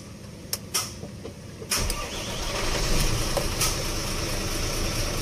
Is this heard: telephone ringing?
no